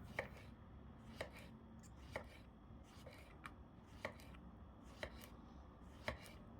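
Knife slicing small, thin zucchini into rounds without removing the seeds, sharp chopping strikes about once per second on a board, close and steady, with quiet pauses between cuts.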